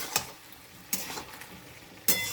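Spiced vegetarian dish with salt and turmeric being stirred in a pan, three short sharp scrapes and sizzles spaced apart, quiet and close, with no talking.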